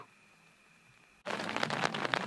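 Heavy rain pours down at a mountain campground, starting abruptly after a near-silent moment and then holding as a loud, dense, steady hiss with scattered patters of drops.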